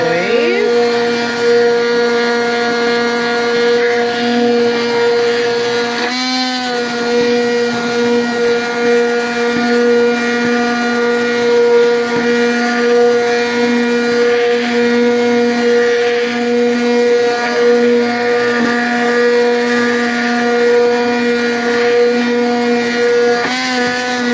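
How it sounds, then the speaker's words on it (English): An immersion blender motor whirs loudly and steadily while blending rum barbecue sauce, with a brief shift in pitch partway through before the steady drone resumes. "I've just got my immersion blender here and I'm just going to blend it out smooth."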